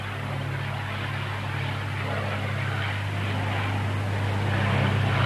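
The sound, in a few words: Spitfire fighter aircraft flying at air show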